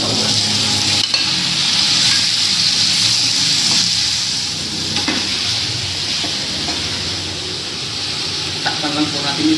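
Beef pieces frying in a pan for Filipino adobo, a steady loud sizzle throughout with occasional scraping stirs and clatter, continuous and close.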